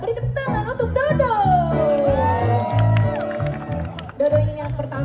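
Live audience at a Stand Up Fest 2023 concert cheering, whooping and applauding for a guitar technician, a loud crowd roar with shouts rising over clapping, and a voice speaking through it.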